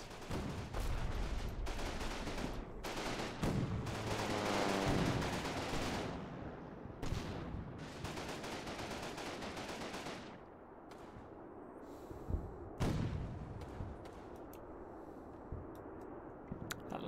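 Machine-gun fire rattles in the WWII tactical video game Combat Mission during the Final Blitzkrieg battle for Chaumont: dense, sustained bursts with overlapping gunfire and impacts that continue steadily throughout, with no voices.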